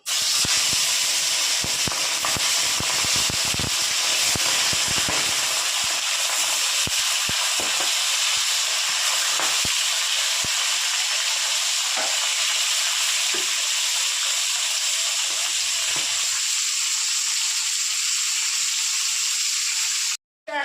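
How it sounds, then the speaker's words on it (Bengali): Tilapia fish fries in hot oil with a loud, continuous sizzle and hiss. Scattered crackles and spits run throughout until the sound cuts off abruptly at the very end, and no one talks. "তেল গরম হয়ে গেছে এবার এক এক করে আমি মাছগুলো ভেজে নেবো"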